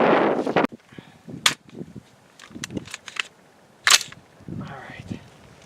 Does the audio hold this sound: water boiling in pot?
no